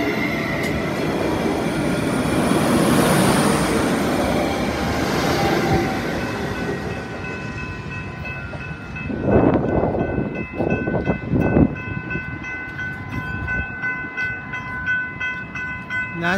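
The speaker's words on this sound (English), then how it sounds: "and there's the train" Train rolling through the N Beach Street railroad crossing in Haltom City, Texas, a loud close rumble of wagons with metallic wheel squeals and clanks, while a steady crossing bell rings throughout.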